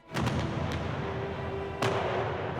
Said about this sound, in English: With so much noise from the cannon fire, it was difficult to make yourself heard.